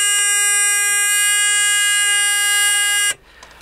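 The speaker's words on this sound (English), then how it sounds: "The first one I want to show you is the buzzer." An electric buzzer from an energy conversion kit sounds one loud, steady, harsh tone with bright overtones for about three seconds, then cuts off abruptly.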